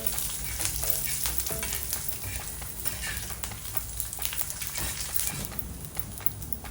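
Roasted coconut sautés with whole spices in a pan for a black-spice tuna gravy, producing a dense, even, close-up sizzle with brief stirring scrapes throughout and no talking.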